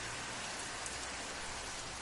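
Steady rain falls in a dense, even hiss, loud and unbroken throughout with no voices or thunder.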